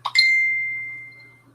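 A phone notification goes off once, a short two-part chime that ends in a bright, clear ding and rings out for about a second, loud and near, with no talking.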